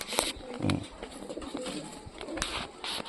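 Punjabi pigeons cooing close by, with a low throaty coo burst and scattered fluttering and shuffling sounds, while a person talks over them.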